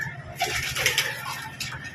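Soft, low cooing from racing pigeons, close by and continuous over a faint background.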